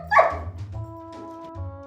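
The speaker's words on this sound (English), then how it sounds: "Sometimes he would bark at her like a normal dog would." A dog barks once sharply and close, then gives a few softer yips and whines over a steady mechanical hum.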